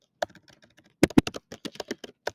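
Fingers type on a computer keyboard in a quiet room, a sparse run of key clicks followed by a quicker, louder cluster of taps.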